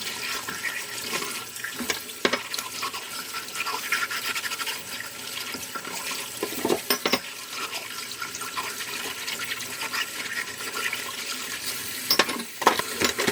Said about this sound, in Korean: 미끄러지는 느낌 없이 깨끗하게 헹굼이 되고 있어요.